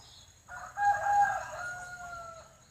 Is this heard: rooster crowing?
yes